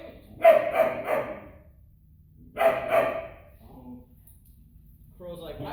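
A German Shepherd barks in a few short bursts at another dog, fairly close by, with quiet gaps between the barks.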